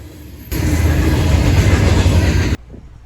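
Train pulling into Houston, a loud dense rumbling roar that bursts in after half a second, holds steady for about two seconds and then cuts off abruptly, leaving quieter background noise.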